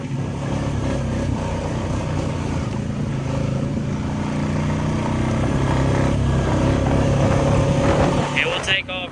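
A Honda DCT motorcycle pulls away in low range first gear, its engine droning steadily and building in pitch under wind rush, with a brief higher-pitched sound near the end.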